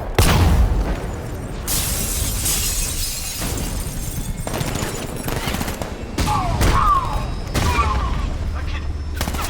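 Rapid bursts of gunfire in the video game Batman Arkham Knight, loud volleys with sharp cracks and booming impacts, some shattering, spread across the whole clip.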